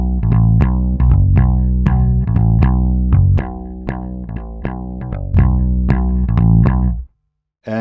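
Rickenbacker electric bass through an Eden WT-800 amp plugin set like a big stack at high volume, playing a driving line of punchy, slightly gritty notes with a thick amplified tone, steady and loud, ending abruptly in silence.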